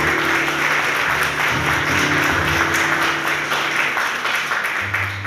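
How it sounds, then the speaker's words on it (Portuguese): A congregation applauds steadily during a Portuguese-language church sermon, a dense wash of clapping over sustained low organ or keyboard tones, with faint voices mixed in. "Levanta a mão e aplaude"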